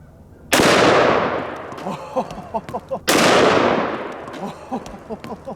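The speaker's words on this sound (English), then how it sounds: "we're gonna be shooting the bowling ball with an Underwood ammo 420 grain extreme penetrator" A .500 S&W Magnum snub nose revolver firing Underwood 420 grain extreme penetrator rounds at a bowling ball outdoors: two loud, booming shots about two and a half seconds apart, each followed by rattling, fading echoes.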